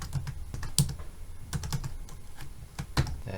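Fast typing on a computer keyboard while coding a Java timer, with a quick run of close clicky keystrokes and a few louder taps, no voice.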